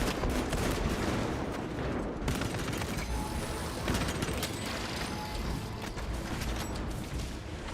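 Dense, continuous gunfire from the Space Marine video game, with loud overlapping volleys and bursts that run without pause and almost no talk over them.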